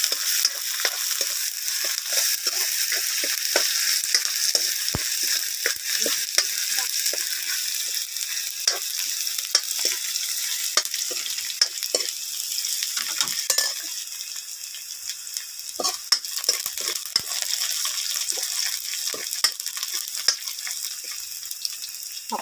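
Onions frying in oil and being stirred toward browning: a continuous close sizzle with frequent small scraping and clicking stirs running throughout.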